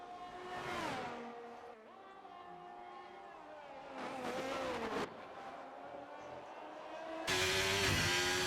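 An onboard Ferrari race car in a racing video game screams through the gears, its engine note rising and dropping with each shift and surging loud near the end, with a commentator talking quietly underneath.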